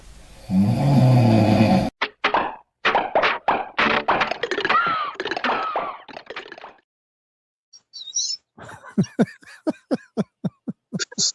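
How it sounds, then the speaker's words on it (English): A man snoring in a played scene from a 1984 movie: a burst of rough, droning snore, then a run of choppy vocal sputters and sharp breathy snorts, followed by quick rhythmic puffs. "It's already funny that he's sleeping and snoring."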